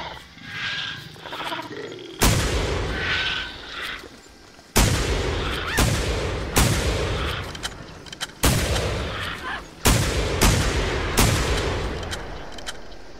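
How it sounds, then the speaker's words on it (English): Shotgun blasts in theHunter: Primal, a series of about eight loud, booming shots spaced a second or two apart, each ringing out and decaying, with faint voices and game ambience before the first. "Missing. All those shots, couldn't hit it."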